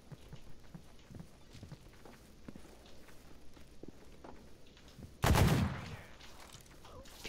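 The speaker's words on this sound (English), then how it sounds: "Feels like this guy's shooting at me." Enemy gunfire in the video game STALKER GAMMA, heard as a loud, close burst that erupts abruptly near the end after a stretch of quiet background sounds and faint footsteps.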